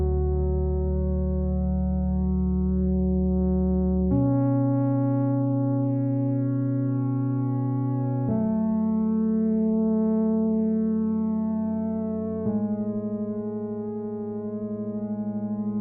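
Sky Keys plugin keys in FL Studio play sustained guitar-style chords, four steady held chords changing roughly every four seconds, smooth and even with no talking.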